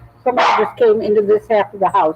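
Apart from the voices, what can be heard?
dog barking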